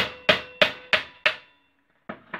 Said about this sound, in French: Je prends mon marteau.